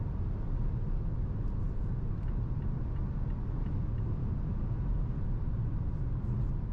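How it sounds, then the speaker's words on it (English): Steady broadband wind roar and low road rumble inside a 2022 Mazda CX-5 with a 2.5 SkyActiv-G engine, moving at up to about 130 km/h, continuous and even throughout, with no talking. "It's nice and moderate wind noise inside the car, up to 130 perhaps."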